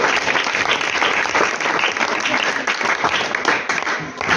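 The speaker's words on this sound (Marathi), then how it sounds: "त्यांच्यासाठी प्लीज एकदा सर्वांनी जोरदार टाळ्या वाजवा." Sustained audience applause at a Marathi children's literature convention held in a high school, loud and dense throughout, with a faint voice underneath.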